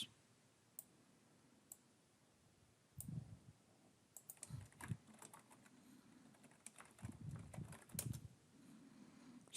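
Someone types on a computer keyboard, quiet, close clicks in irregular bursts of keystrokes with short pauses between them.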